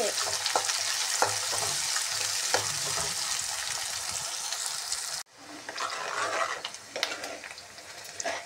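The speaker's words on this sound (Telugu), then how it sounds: "ఇలా వేగిన తర్వాత పచ్చిమిర్చి సన్నంగా తరిగి వేసుకున్నవి, ఆనియన్స్ వేసి బాగా వేయించుకోవాలి." Finely chopped green chilies and onions sizzle in a hot pan for a Vanjaram fish curry, with a loud steady crackle, stirring scrapes throughout, and a brief break partway before the frying resumes.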